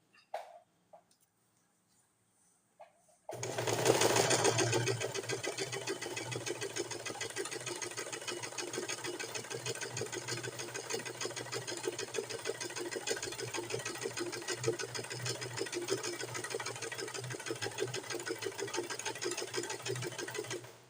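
An embroidery sewing machine stitching fabric held in a frame, starting after a few quiet handling taps and then running as a steady, fast, close mechanical whir to the end, with no talk.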